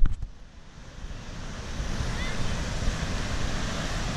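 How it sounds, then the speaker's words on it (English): Ocean surf at Virginia Beach rolls in as a steady, broad wash of breaking waves, with wind buffeting the microphone and a brief knock at the very start. "we are walking to the ocean"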